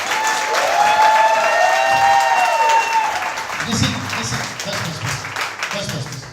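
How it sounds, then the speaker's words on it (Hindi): Congregation at a worship service breaking into loud, sustained applause for Jesus, dense clapping filling the room while a voice sings a held melodic line over the start, the clapping thinning slightly toward the end. "एक अच्छी ताली सिर्फ यीशु को"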